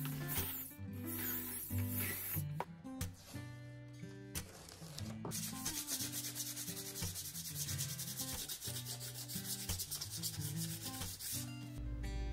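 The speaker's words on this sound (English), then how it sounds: "I still had some cleanup to do with sandpaper after" Sandpaper rubbed by hand over wooden box pieces makes a steady, close scratchy rasp in repeated strokes, with a short break and a few knocks partway through.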